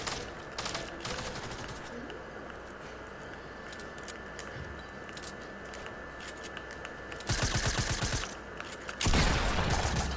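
Rapid bursts of gunfire from a battle royale video game rattle steadily throughout, with louder, denser volleys near the end.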